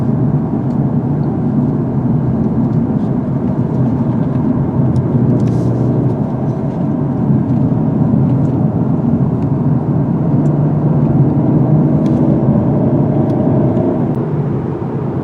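A 2021 Genesis G70 sports sedan accelerating on an open back road, a steady loud engine and road drone heard from inside the cabin, building gradually in pitch.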